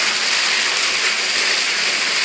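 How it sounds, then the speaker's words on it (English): A steady, loud rush of hail pouring and rattling down a gutter, a dense continuous hiss with no voices. "We got the hail clogged up the gutter. And it's just pouring down here."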